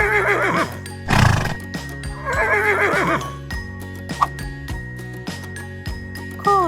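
A horse whinnies twice, loud and close, over light jingling and a steady musical background.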